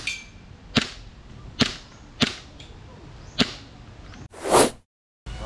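An airgun fired at targets at a campsite, five sharp snapping shots spaced roughly a second apart, followed by a short louder whooshing burst.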